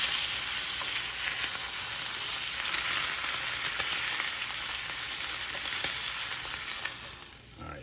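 Loud, continuous sizzling of venison searing in a smoking hot pan with butter, a dense hiss with faint tong clicks that eases slightly near the end.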